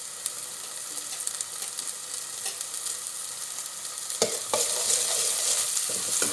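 Chana masala with onion and curry leaves stirred in a hot pan, a continuous loud sizzle with scraping strokes of a spoon against the metal and a sharper clatter toward the end.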